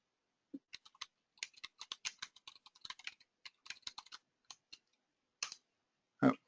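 Typing on a computer keyboard to write a chat message, with irregular bursts of close, crisp key clicks and short pauses, ending in a louder thump.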